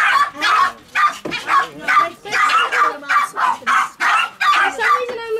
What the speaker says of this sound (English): I'm not surprised it's this type of dog. They always bark.